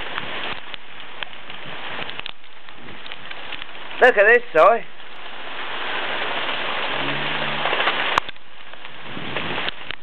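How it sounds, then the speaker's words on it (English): Hail falls during heavy rain, a constant pattering hiss with scattered sharp ticks of hailstones striking surfaces. Someone speaks briefly partway through, and a low voice murmurs later. "This is hail."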